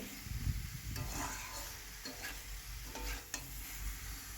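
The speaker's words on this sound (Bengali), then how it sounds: "সবজিগুলো আর মশলাটা ভালো করে কষিয়ে নিচ্ছি" Cauliflower and green beans being stirred and fried with spices in a pan, a steady close sizzle with scraping stir strokes and occasional clinks, with no one talking.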